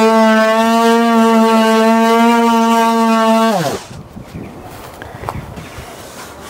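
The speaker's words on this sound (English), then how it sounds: "this is a quick, easy way of doing it with a handheld planer" A handheld power planer shaving wood for closet French doors gives a loud, steady, high tonal whine for several seconds, then cuts off abruptly and leaves quieter scattered knocks and handling noises.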